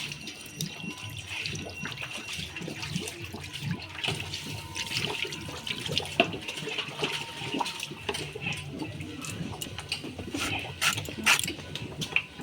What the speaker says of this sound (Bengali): কষগুলো একটু জল দিয়ে ধুয়ে নেব